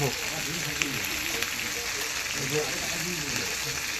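Powdered turmeric, chilli and cumin sauté in a pan with a low, steady sizzle and occasional stirring, while people talk quietly over it.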